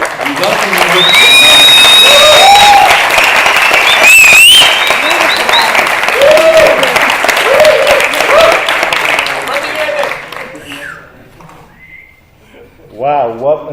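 Audience applause and cheering welcome a presenter at a talk on accessible websites, a loud sustained clapping crowd with whoops and whistles that fades after about ten seconds, while a voice speaks over it near the end.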